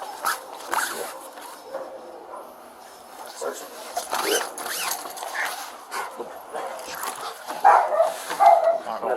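A police K9 dog searching inside a house, with jingling gear and scuffling movement throughout and a few short dog vocal sounds near the end, under steady talk from officers.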